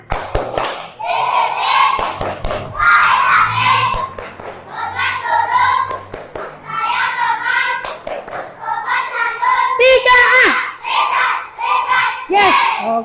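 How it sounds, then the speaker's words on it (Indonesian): A primary class 3A performs a rhythmic clapping chant (tepuk kelas), with loud children's voices chanting in unison in bursts punctuated by sharp, patterned claps. "biar kita semangat, kita tepuk kelas"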